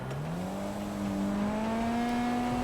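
An old car's engine revs up, rising steadily in pitch into a loud, close, sustained drone, with no voices over it.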